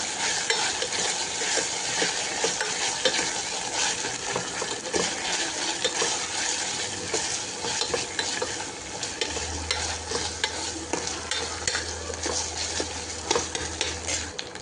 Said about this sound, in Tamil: இப்போ இஞ்சி பூண்டு போட்டு பச்சை வாசனை போகிற அளவுக்கு இஞ்சி பூண்டு நல்லா வதக்கணும்